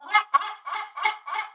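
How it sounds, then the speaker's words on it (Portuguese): A seagull that regularly visits a home calls out in a series of about six loud, close, harsh squawks with short gaps between them, heard alone without speech. "é uma gaivota que frequenta aqui em casa"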